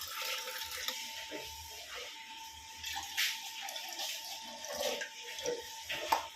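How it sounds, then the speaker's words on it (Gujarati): Water pours into a pot for making tea, a soft splashing trickle in a quiet kitchen, with a faint tone and small clinks around it. "થોડું પાણી રેડી"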